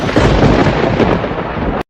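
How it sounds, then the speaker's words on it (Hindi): Loud, continuous thunder from an unseasonal rainstorm, a dense crackling rumble that fills almost two seconds before cutting off abruptly. "ये बिना मौसम की गरजती हुई बारिश हमें क्या संकेत देती है?"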